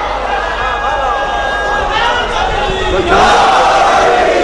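Large crowd at a Shia majlis religious gathering in Jogipura, Bijnor, India, chanting slogans together in a loud, sustained roar that swells noticeably louder toward the end.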